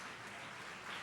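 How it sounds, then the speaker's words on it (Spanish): A church congregation claps together in sustained, even applause during a Sunday worship service, a dense steady patter at moderate volume with no break. "usted se sienta dándole un aplauso a nuestro Dios como ofrenda en alabanza"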